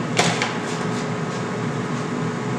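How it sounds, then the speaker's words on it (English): A steady broadband whirring hum of an air fryer running close by, constant and unbroken, with a few faint clicks near the start. "That sound you hear in the background is the air fryer."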